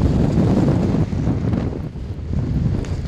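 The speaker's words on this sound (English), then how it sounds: "No, it's another windy day." Strong wind on the Greenland icecap on a summer expedition, a loud continuous roar buffeting the microphone with slight surges and dips, no voices.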